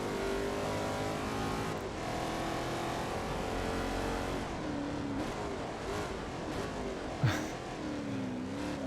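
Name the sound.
1960s race car engine in Forza Motorsport 2 video game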